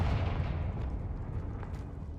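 The Confringo fire-blast spell goes off in Hogwarts Legacy, a loud deep boom that rolls out into a dense rumbling decay and fades over a couple of seconds.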